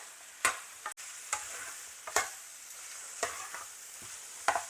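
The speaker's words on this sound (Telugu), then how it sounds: "ఒక నూనె వేసి వేయించిన తర్వాత దీంట్లో అల్లం పేస్ట్ ఉంది కదా అల్లం పేస్ట్ వేసేయాలి" Ginger paste fries in oil in a pan while a spoon stirs it, giving a soft, continuous sizzle punctuated by repeated scraping strokes at irregular intervals, close and fairly quiet, with no speech.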